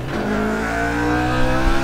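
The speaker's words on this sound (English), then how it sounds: "The pace car's got some acceleration." A pace car accelerating in a racing game at Twin Ring Motegi Speedway, its engine holding a steady, loud, climbing whine with strong harmonic tone, close and continuous.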